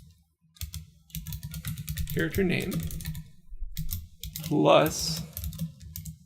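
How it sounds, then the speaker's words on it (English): A computer keyboard rattles with quick, uneven bursts of keystrokes while someone talks over the clicking at close range. "We're going to type character name,"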